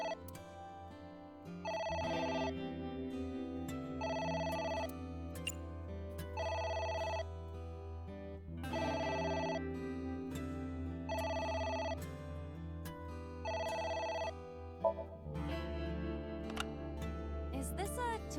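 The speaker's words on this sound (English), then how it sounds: "It's the phone." A telephone rings inside a diner in a video game, rhythmic repeated bursts of bell-like ringing over a soft musical backdrop, with a brief pause before a final change.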